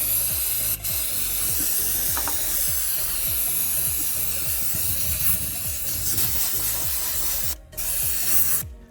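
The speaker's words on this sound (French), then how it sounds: "on va le nettoyer avec du nettoyant frein" Brake cleaner sprays from an aerosol can onto a metal engine part in a long, close, continuous hiss, broken by short pauses near the end.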